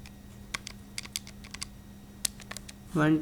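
Calculator keys are tapped to enter numbers: a series of sharp, light, close clicks in an irregular rhythm over a quiet background, and a voice begins just at the end.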